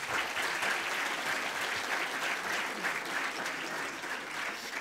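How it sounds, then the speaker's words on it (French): A conference-show audience applauds steadily for about five seconds, a dense, even wash of clapping filling the room with no voices over it. "Je peux les applaudir."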